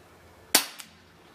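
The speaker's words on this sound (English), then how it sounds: "It's fairly loud. You can tell it's letting out a lot of CO2 with each shot." A single shot from a Cybergun Jericho 941 CO2 pistol: one sharp, fairly loud crack with a gassy hiss tailing off and a faint second click just after, close and alone against quiet room noise.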